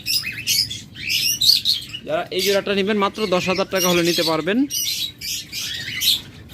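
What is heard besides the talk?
lovebirds chirping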